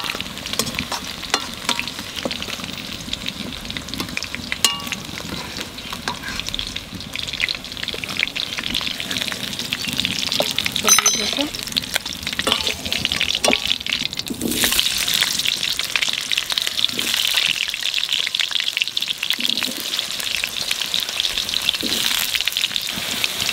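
Raw jackfruit fries in hot oil with a steady, dense sizzle and crackle that runs throughout, broken by occasional stirring scrapes, with no talking.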